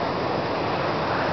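Ocean surf on the west coast of Oahu, a dense continuous roar of breaking waves and spray, loud and steady with no voices over it.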